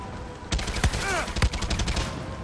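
Pistol gunfire in the video game Far Cry 6: a few sharp, loud shots at uneven intervals, with short bursts of crackling impact and debris noise between them.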